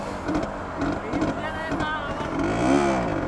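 A motorcycle engine runs steadily at close range, a low continuous drone with a brief rise near the end, while someone talks over it.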